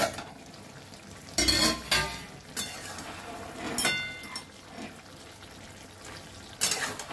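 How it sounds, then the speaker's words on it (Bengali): A lid lifted off a pot of simmering mixed vegetable curry with prawns, giving a few sharp clattering metallic clanks and scrapes, close by, over a low background hiss, with no voices. "এবারে ঢাকাটা একটু আমি খুলে দেখব।"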